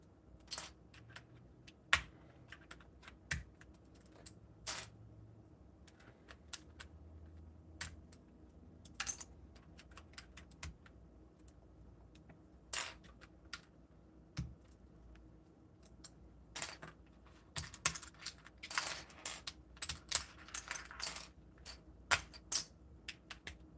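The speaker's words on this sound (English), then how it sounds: "this is the best way to take out keycaps" Keycaps come off a mechanical keyboard one after another as sharp plastic clicks and snaps, irregularly spaced and fairly close, with rattles between pulls and no talking.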